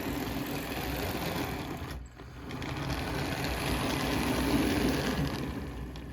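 A model locomotive, its wheels freshly cleaned, runs steadily with an even, smooth mechanical whir and hum, close and moderate in volume, briefly dipping for a moment before carrying on without judder.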